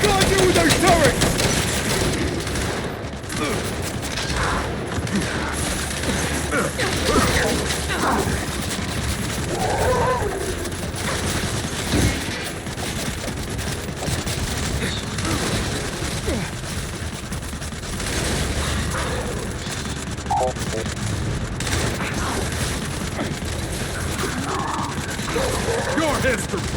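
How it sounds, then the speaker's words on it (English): Heavy sustained gunfire from mounted turrets in the Gears 5 video game, a dense unbroken barrage of shots with crashes, loud and close throughout, with shouted voices mixed in. "We're pinned down! We can't deal with those turrets!"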